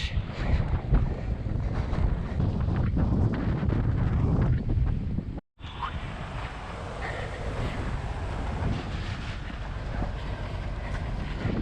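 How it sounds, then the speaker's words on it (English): Strong headwind buffets the microphone of a cyclist riding a muddy farm road in rural Georgia, a loud continuous roaring rumble broken only by one brief dropout midway, with no voices. "There's only one thing worse than a headwind, and that's a muddy road headwind."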